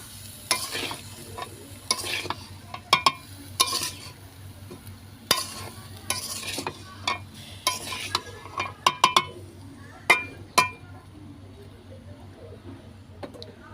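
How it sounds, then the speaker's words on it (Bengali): Tomato pickle with turmeric powder stirred in a pan, a spoon scraping and clacking against the pot in repeated uneven strokes over a low sizzle, close and moderately loud. "এখন সুন্দর করে মিক্স করে নেব"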